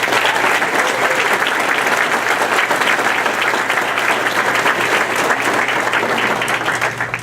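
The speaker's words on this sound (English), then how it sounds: "So I want to give the Diman community itself a round of applause" Banquet guests at a vocational school awards dinner give a sustained round of applause, loud and even, a thick wash of clapping hands from a nearby crowd with no talk over it.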